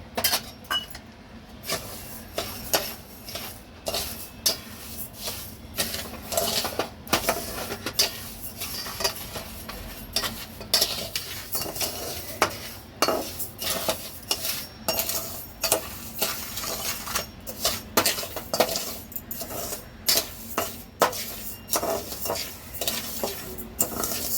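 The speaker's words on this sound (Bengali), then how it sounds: "চিনিটা দেখুন অনেকটা গলতে শুরু হয়ে গেছে।" Sugar caramelizing in a pan for mishti doi, stirred continuously with a utensil that scrapes and clinks against the metal in a rapid, uneven rhythm over a soft sizzle.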